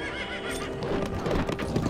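A horse whinnies loudly over steady clip-clopping hooves in Breath of the Wild on the snowy, windy road to Death Mountain, with game ambience underneath.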